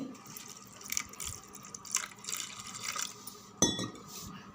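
Water is poured over white flattened rice (aval) in a kitchen bowl, a soft splashing trickle with faint dish clinks, one sharper splash near the end, and no talking.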